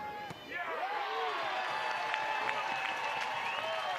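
A college softball crowd at an Oregon Ducks vs Stanford Cardinal game cheers and applauds in a steady, dense roar, with whistles and shouts rising out of it.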